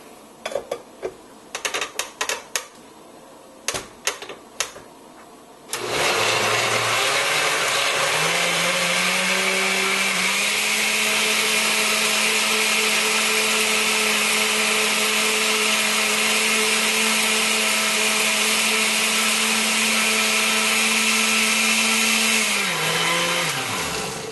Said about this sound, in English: We put it on the blender. We blend it up.